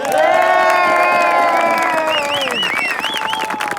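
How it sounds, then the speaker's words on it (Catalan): Loud cheering, whooping and shouts from a crowd at a campfire gathering applauding the cooks, voices and clapping blending into a lively roar. "un fort aplaudiment pels cuiners"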